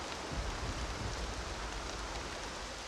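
Rain falls in Horizon Zero Dawn as a steady, dense hiss of drops, even and unbroken, moderately quiet, with no voices.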